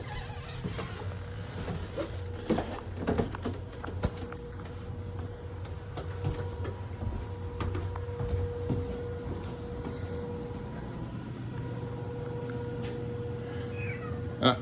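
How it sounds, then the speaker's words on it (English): Cats meow repeatedly in a house basement, with several clear, fairly close cries rising over a steady low hum and faint background noise throughout. "Cats."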